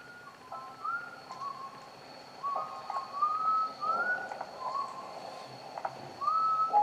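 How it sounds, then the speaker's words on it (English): A slow, thin whistled tune drifts in short rising phrases over a quiet, hissy background, faint and somewhat distant, with no voices. "Whistling."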